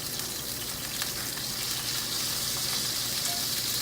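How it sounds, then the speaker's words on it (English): Meat searing in a cast iron pan for a Wellington meat pie, a loud, steady, hissing sizzle that carries on unbroken with no talk. "we're just going to sear these all the way around all sides"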